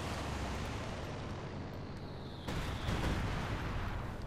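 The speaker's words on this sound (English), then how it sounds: "he's calling in another bombing strike" Booming bombing-strike explosions in a Company of Heroes 2 match, a dense continuous rumble of battle noise that swells louder about halfway through, with no talk.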